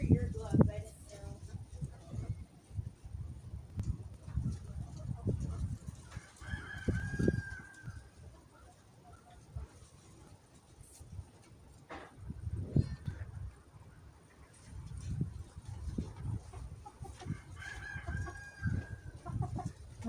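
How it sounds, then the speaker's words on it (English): Barred Rock hen clucking up close on a homestead in the morning, soft repeated clucks and short calls coming in bursts, with a person talking over much of it. "One of my barred rocks decided to come say hi to me this morning."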